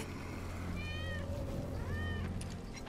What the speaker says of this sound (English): That's Wedge's cat.